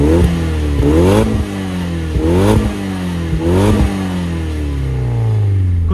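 Nissan Silvia S15 Spec-R engine with a near-stock exhaust and a quiet aftermarket muffler, revved close up in repeated sharp rises and falls: four quick blips, then a longer sustained rev that winds down.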